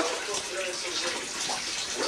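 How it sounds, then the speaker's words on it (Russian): Water runs steadily from a tap in a home during laundry, a continuous close splashing rush with no breaks. "выключи воду, на пол уже льется"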